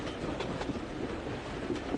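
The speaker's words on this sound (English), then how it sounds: "The train was getting nearer and nearer to Dover." A train rolls steadily toward Dover with a constant rumbling roar and faint rhythmic clatter, close and even throughout with no voices.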